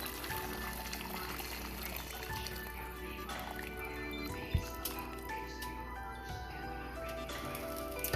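Water is poured into a cooking pot in a kitchen, producing a faint, steady splashing stream with a few small clunks along the way.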